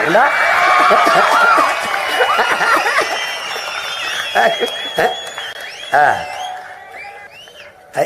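A crowd claps and cheers at a large outdoor political rally with forty candidates on one stage. The applause is loud at first, with whistles and voices mixed in, and it thins out toward the end.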